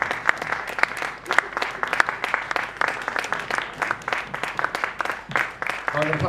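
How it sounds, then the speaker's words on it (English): Audience applauds the singers and project members being called up on stage at a live performance; steady, fairly loud clapping from a crowd for about six seconds, with talking mixed in. "come on, you deserve a round of applause"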